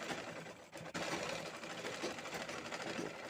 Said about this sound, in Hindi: इस तरह से अच्छे से हमें सिलाई लगा के रेडी कर देना है।